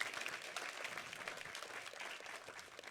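Faint applause from an audience at an event, a steady wash of many hands clapping throughout.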